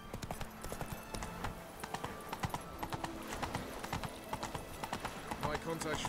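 Roach, a horse in The Witcher 3, clip-clops along at a steady walking rhythm, hooves close and clear, with game music and ambient sound underneath and voices talking at times.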